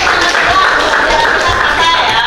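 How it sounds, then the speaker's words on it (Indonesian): An audience in a class on artificial intelligence applauds in a dense, continuous wash of clapping that holds at an even, fairly loud level throughout. "Tepuk tangan semuanya."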